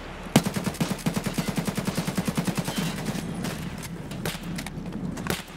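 Rapid bursts of automatic gunfire from a firefight in an online extraction shooter, a fast regular string of loud close shots followed by scattered single cracks and distant reports.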